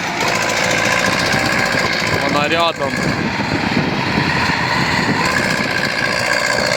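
A tractor engine working close by while clearing a heap, a loud, steady rattling drone that runs throughout, with a brief voice and a short whistle-like tone partway through.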